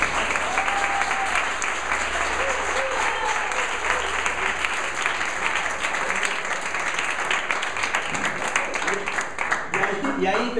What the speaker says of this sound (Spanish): Ahora ustedes aplauden